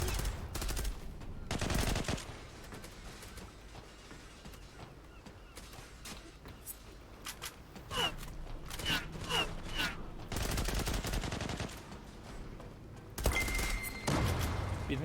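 MPT-76 rifle gunfire in the online shooter Zula, bursts of rapid automatic shots crackling in several long volleys with gaps between, mixed with game effects and someone talking.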